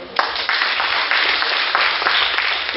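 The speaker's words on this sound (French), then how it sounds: "Je voudrais vous demander de l'applaudir." An audience at a yam festival applauds a ten-year-old performer, a close, dense patter of clapping that starts abruptly and continues steadily with a few louder bursts.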